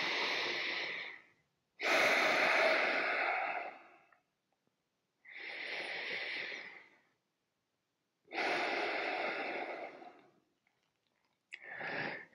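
Slow, deep breaths taken while fingers press firmly on the sternum: four long, close, airy inhale and exhale cycles with silent gaps between them and no talking.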